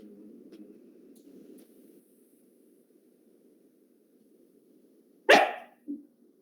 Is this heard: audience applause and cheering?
no